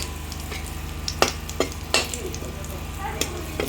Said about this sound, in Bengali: তারপরে এখানটায় দিয়ে দিচ্ছি 5 ফোড়ন, 2টা তেজপাত, 1 টুকরো এলাচ